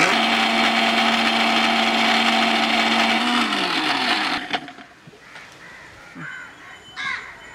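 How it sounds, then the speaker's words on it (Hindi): A kitchen mixer grinder whirs loudly while grinding spices with dried mango pieces and a little water, its steady motor whine dropping in pitch as it slows and cuts off, followed by quieter clinks and small handling sounds. "थोड़ा सा पानी लेते हैं और इसे अच्छी तरह से ग्राइंड करते हैं।"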